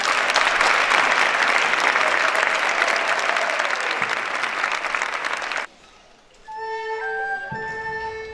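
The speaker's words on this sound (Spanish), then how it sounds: "damos un fuerte aplauso al grupo coral Juventudes de Sanguero de Portugal." A large audience applauds a choir at a medieval concert during a Templar festival in Jerez de los Caballeros, dense clapping for over five seconds before cutting off, followed by brief quiet and a few sustained musical tones.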